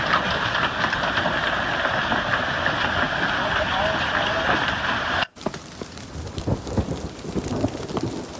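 A hailstorm near Canberra, Australia pelts down as a heavy, continuous hiss of hail and rain. After an abrupt cut, lighter rain continues with scattered louder impacts.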